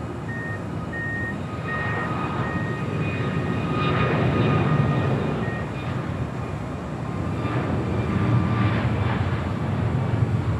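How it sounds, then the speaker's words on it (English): A brand-new United Airlines Boeing 737 MAX 9 departs runway 25 right at LAX, a steady broad jet roar that swells and eases slightly while holding at a moderate distance, with no voices. "Next departure on 25 right, United Airlines flight 1439 heading to Houston, Texas. It's a 737 MAX 9,"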